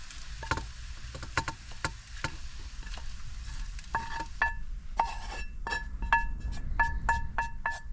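Food frying in a pan inside a small camper van, with a soft steady sizzle beneath repeated sharp clinks and scrapes of a utensil stirring against the pan, quiet and close.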